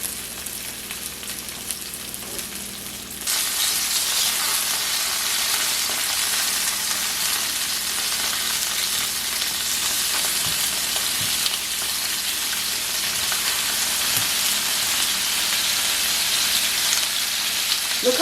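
Lobster searing in a hot pan: a loud, dense, steady sizzle that starts suddenly and holds for many seconds, with a few faint clicks underneath.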